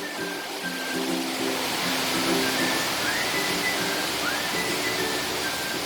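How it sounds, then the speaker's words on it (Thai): Steady rain falling at Sattahip after a long dry spell, a dense even hiss filling the air, with faint melodic bird whistles rising above it now and then, no voices. "สติหีบเราฝนตกแล้ว"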